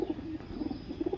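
Faisalabadi Sialkoti pigeons cooing close by, soft repeated throaty coos in a quick rhythmic pattern with no talk.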